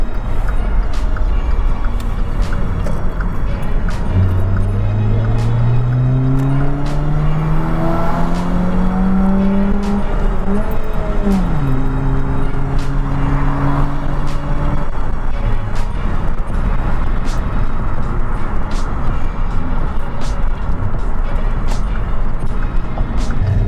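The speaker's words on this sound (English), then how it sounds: "maybe you might get some bonus footage of some revving underneath the tunnel of my Dart." A Dodge Dart's engine revs inside a tunnel, its tone climbing and falling in long sweeps through repeated throttle blips, with a constant loud roar and rumble reverberating off the enclosed walls throughout.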